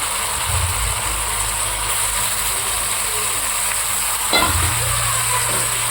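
Continuous loud sizzle of chicken pieces frying in a pan with spices, a low rumble beneath and a brief clunk partway through, no talking.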